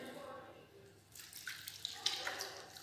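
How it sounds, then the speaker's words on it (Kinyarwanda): A tap turned on for handwashing runs with a faint splashing of water that starts after a quiet moment and carries on softly in the background. "Banza ugafungura robine"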